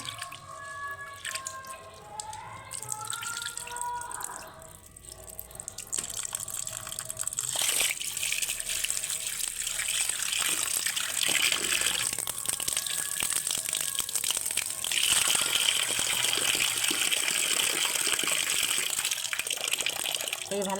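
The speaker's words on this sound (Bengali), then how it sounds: "ডালটাকে ভালো করে ধুয়ে নেব" Lentils (dal) are rinsed under running water in a kitchen, with the tap gushing and splashing steadily, dripping and swishing sounds early on, then a louder continuous rush of water filling the vessel.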